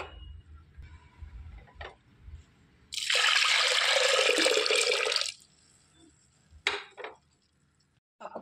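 Moong dal being rinsed in water in a home kitchen, a loud, steady rush of running and sloshing water lasting about two seconds, followed by a few short splashes and drips, with quiet background between.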